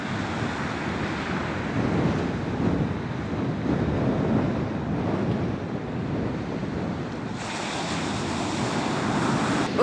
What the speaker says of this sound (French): Voici la Push, donc la fameuse plage où Bella et Jacob vont